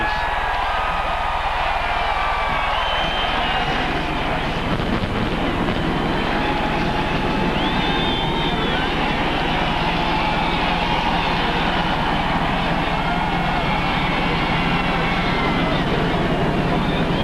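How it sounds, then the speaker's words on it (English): NASCAR Winston Cup cars at the Phoenix race fire up together, a loud, continuous rumbling roar of many engines with crowd noise and a voice over it. "Gentlemen, start your engines."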